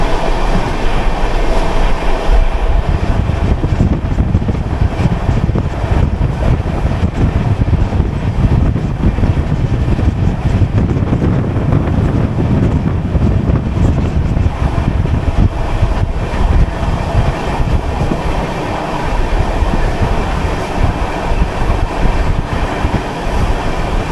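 The 12935 Surat Intercity train, heard from inside an AC chair car, runs on rails with a steady, loud rumble and roar and faint clickety-clack throughout, with no voices.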